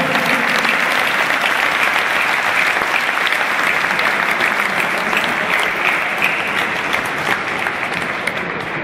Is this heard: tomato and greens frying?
no